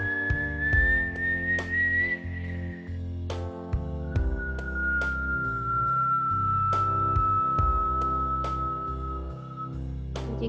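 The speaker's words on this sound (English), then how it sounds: "So inhaling and exhaling through that whistle mouth." Breath whistled through pursed lips, two long sustained tones, the first slightly rising and the second slowly falling, over a steady low drone and repeated soft clicks.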